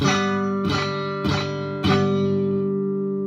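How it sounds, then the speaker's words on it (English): A buzzy, rattling guitar barre chord, fretted with the thumb wrapped over the top of the neck, strummed four times at an even pace, each strum ringing on with a fizzy, muted edge. "you wind up getting bar chords that sound like this"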